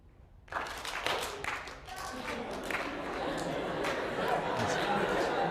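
Lecture-hall audience in a psychology class breaks into scattered clapping that swells into broad applause mixed with murmuring chatter, starting abruptly after a quiet moment.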